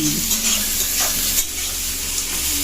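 Potatoes fry in a pan during home cooking, giving a steady, close sizzle with soft stirring scrapes and no talking.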